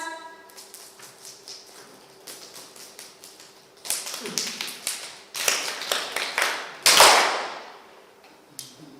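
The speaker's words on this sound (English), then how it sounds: "Can you show us what are the raindrop claps?" A group claps like falling rain, starting with light scattered taps and building into dense, loud rapid clapping waves, then fading back to sparse taps.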